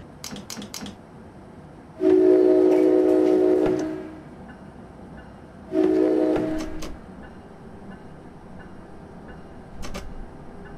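A train departing a station in Train Simulator 2017, with two sustained horn blasts separated by a pause, over a low rumbling background and a few short clicks.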